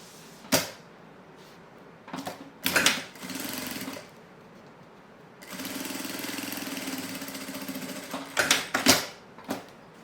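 Sewing machine stitching a necessaire, heard in short bursts and then one long steady run of rapid mechanical stitching, close up with brief clunks between runs and no talking.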